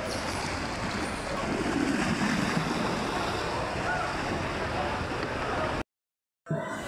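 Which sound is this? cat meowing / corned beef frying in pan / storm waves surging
storm waves surging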